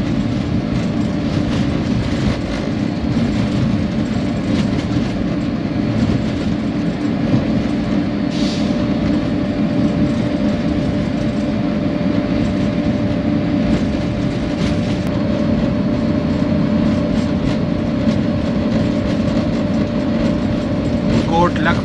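A Pakistan Railways locomotive rumbles steadily onto the loop line at Kot Lakhpat station, Lahore, with a loud continuous drone, a sustained tonal whine and rattling wheels, heard close from the cab, with voices talking underneath.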